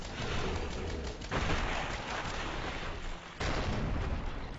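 Pinky demons exploding in Doom, heavy booming blasts and gunfire in dense back-to-back bursts, loud and close, with two sharp new blasts starting partway through.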